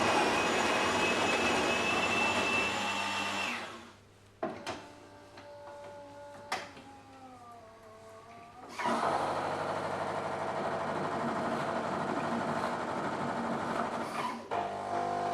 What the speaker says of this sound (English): grinding the coffee. You'll hear it run dry.